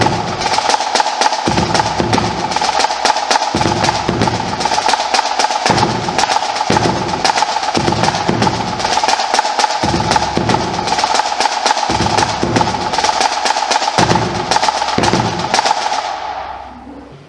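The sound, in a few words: marching bass drum beat played with snare drum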